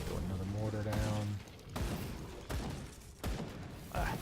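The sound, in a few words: mortar fire from the video game Grim Dawn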